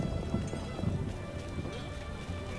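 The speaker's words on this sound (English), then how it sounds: "What a downpour." Heavy rain pours down in The Witcher, a dense, steady hiss of drops hitting surfaces that stays constant and fairly close throughout the short stretch.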